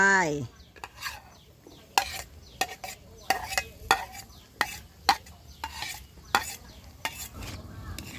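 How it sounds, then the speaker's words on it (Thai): Pork and cucumber are stir-fried in a pan with no oil, with repeated sharp scrapes and clacks of a utensil against the pan at an uneven rhythm over a soft, quiet sizzle, close up. "ผัดสักพักพอแตงกวาหมาดๆ"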